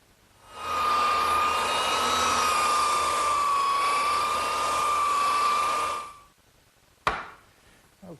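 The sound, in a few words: belt sander smoothing wooden table top boards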